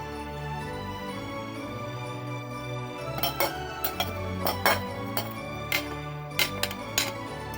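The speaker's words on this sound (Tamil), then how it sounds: "இப்போ சேமியா போட போகிறோம்" Vermicelli added to boiling milk in a pot while making paal payasam, with several sharp clinks and taps of metal utensils against the pot over a steady low bubbling, close and moderately loud.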